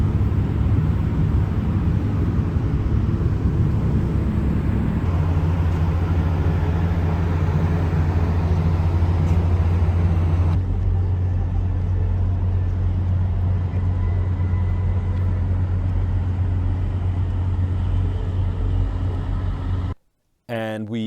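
A truck ride on a highway in Turkey, heard from inside the cab: a loud, steady engine and road drone with a deep low hum runs without a break, shifts in tone partway through, and cuts off abruptly near the end.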